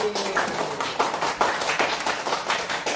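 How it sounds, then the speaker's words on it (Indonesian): Children clapping their hands in a classroom, a loose group of sharp claps with some rhythmic bursts, fairly close and alone without talk. "Tepuk tangan dulu buat BG"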